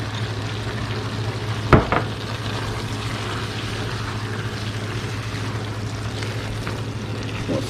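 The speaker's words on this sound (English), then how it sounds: "So now we're going to put the corn in there. And this is 1 can of corn." A can of corn is tipped into a simmering zucchini stew and stirred, with one sharp knock and splash early on over a steady close sizzle and low hum.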